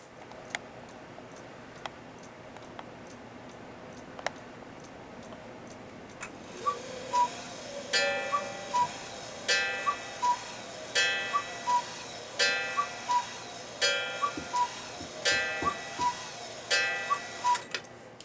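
A cuckoo clock's mechanism ticks slowly and evenly, faint at first, then louder regular ticks joined by clicking and whirring as the works run, close by and with no voices.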